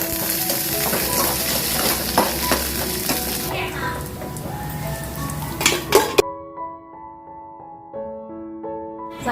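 Ginger, green chilli and curry leaves sizzle loudly in hot oil in a home kitchen, with clinks of a stirring utensil against the pan, before the frying cuts off and gentle music takes over.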